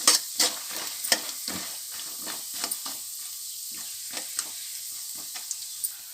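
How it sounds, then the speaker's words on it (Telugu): Mustard seeds, chana dal and peanuts tempering in hot oil for poha upma sizzle steadily, with sharp spatula scrapes and stirring clinks against the pan recurring every second or so. "పోపు దినుసులు వేగిపోయినాయి"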